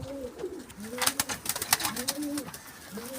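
Pigeons coo repeatedly in low, rolling calls, close by, with sharp clicks and rustling movement scattered through.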